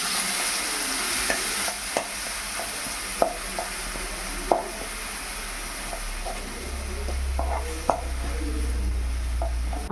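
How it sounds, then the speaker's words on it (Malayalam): Masala with oil, mustard seeds, fenugreek and a crushed spice mix is stirred as it fries in a pan, with a steady close sizzle broken by repeated scrapes and taps of the spoon. "നന്നായി ഇളക്കി കൊടുക്കുക."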